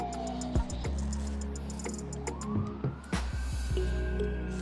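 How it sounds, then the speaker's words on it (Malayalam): A wailing ambulance siren sweeps past while a parent and young child cycle on a New Zealand road, rising and falling steadily under low traffic rumble with a few sharp knocks. "നമ്മൾ സംസാരിക്കുന്നതിനിടെ ഒരു ആംബുലൻസ് അടിച്ച് മിന്നിച്ച് പോകുന്നുണ്ടായിരുന്നു."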